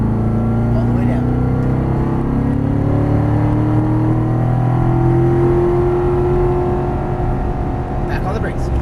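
A Corvette Stingray engine drones steadily at speed on a race track, its pitch rising slowly as the throttle comes back on, loud and continuous with a deep rumbling tone.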